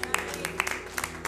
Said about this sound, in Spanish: Dele un aplauso grande al Señor.